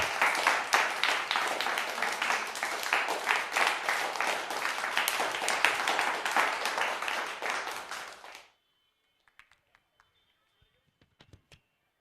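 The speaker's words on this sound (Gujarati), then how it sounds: "એકવાર જોરદાર તાળીથી વધાવશું" Loud, dense applause from a crowd at a welcoming and honouring ceremony in Anjar, Kutch, fills most of the clip, then stops abruptly, leaving near silence with a few faint taps.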